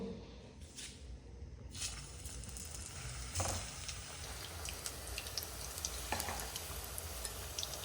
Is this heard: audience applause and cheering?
no